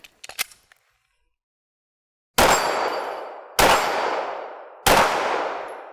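A handgun fitted with a red dot sight fires three sharp, loud shots on an outdoor range, about a second apart, each ringing off, after a few quick mechanical clicks from handling the gun.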